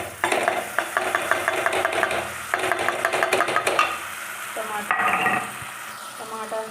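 Spices frying in a pan as homemade tomato puree is added, a steady loud sizzle broken by rapid stirring and scraping strokes, then a sharper hiss when the puree goes in.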